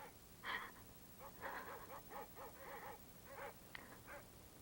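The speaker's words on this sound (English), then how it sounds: "Those dreadful dogs. They sound so terribly ominous." Several dogs bark and yip in the dark in a 1965 sci-fi film, a faint, distant, uneven run of barks with a few whimpers, heard alone without talk.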